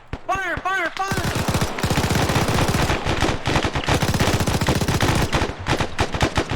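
Sustained automatic weapon fire in the military sim ArmA, a long rapid stream of loud, close gunshots after a brief shouted voice at the start, with bursts thinning toward the end.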